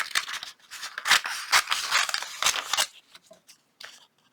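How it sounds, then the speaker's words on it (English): Scissors snip through a printed paper napkin to cut out butterfly shapes, a run of close, crisp cutting strokes in quick bursts that stop abruptly, leaving only a few faint scattered snips near the end. "you can cut out these butterflies"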